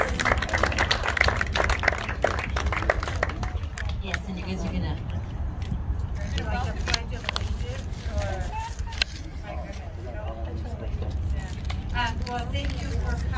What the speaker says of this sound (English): Can you guys give a big round of applause, please?